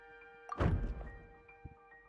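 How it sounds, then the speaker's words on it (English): Single heavy door bang in Genshin Impact, one muffled thump with a short rumbling tail over a quiet sustained music tone, followed by a faint small tap. "दरवाजा यहाँ से कौन सा खटका?"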